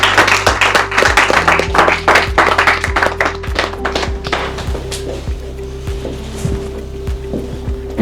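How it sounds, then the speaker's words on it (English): Audience applause as a guest named Carol is invited onto the stage at a business leadership event, with loud, fairly sparse claps over a steady low hum that thin out after a few seconds. "Let's give her a big round of applause."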